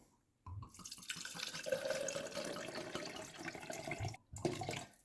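Water pouring from a container into a Silvercrest protein shaker blender cup, a continuous splashing stream lasting a few seconds, close and fairly quiet, stopping briefly before a short final trickle.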